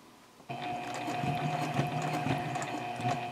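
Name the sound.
sewing machine stitching a project bag's mitered corner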